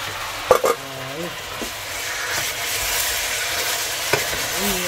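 Food sizzles steadily in a frying pan while being stirred, a continuous close hiss with occasional utensil scrapes, and a person talks briefly over it during home cooking.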